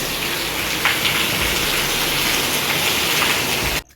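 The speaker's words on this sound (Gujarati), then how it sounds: "મિત્રો વરસાદ ચાલુ થઈ ગયો છે" Steady, dense rain pours down close by, a continuous hiss that cuts off abruptly near the end.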